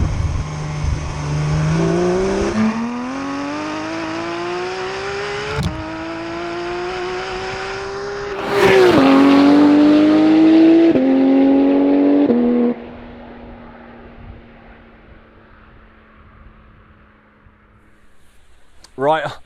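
A Porsche 911 GT3 Touring revs hard through several gears, the engine note climbing and dropping at each shift, loud and close, then easing to a steady drone before fading out.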